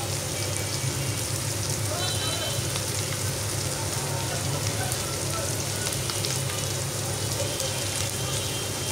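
Onions frying in a pan with salt while being stirred, a steady close sizzle and crackle that runs continuously without any break, with no talk over it.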